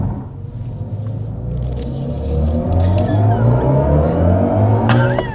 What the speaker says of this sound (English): I also love that BMW, they call that iconic sounds when it has a sound effect.